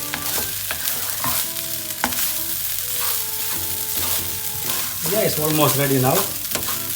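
Vegetable fried rice with crushed pepper is tossed and stirred in a hot pan, giving a steady sizzle with scraping and clinking strokes under a short spoken remark, with the stirring growing busier near the end.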